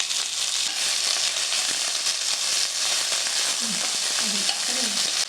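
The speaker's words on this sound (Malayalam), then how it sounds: "അതിലേക്ക് ഇട്ട് നന്നായിട്ടൊന്ന് വഴറ്റിയെടുക്കാം." Shallots and green chilies sauté in hot oil with fenugreek seeds in a pan, giving a continuous, close sizzle with soft stirring scrapes and no talk.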